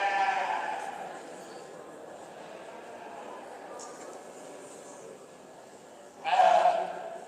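Valais Blacknose sheep bleat at a show, one bleat at the start and a louder one near the end, over a faint hall murmur.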